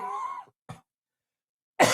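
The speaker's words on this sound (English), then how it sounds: "Sorry, I still got the coughs." Two short, close coughs from a man with a lingering cough, a harsh throat-clearing bark followed by a brief second hack, separated by silence and then a burst of noise.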